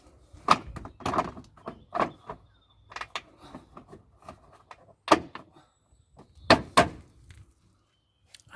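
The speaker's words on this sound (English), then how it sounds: "we're just going to knock it down onto those latches" Plastic side sill finisher on a Rover 45 knocked down onto its latches, a series of sharp plastic knocks and thuds in irregular bursts, close and fairly loud with quiet gaps between.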